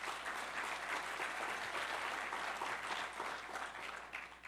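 Sustained applause from an audience at a Greater Philadelphia Chamber of Commerce event with the governor, a dense steady patter of many hands filling the room at moderate volume, tapering slightly near the end.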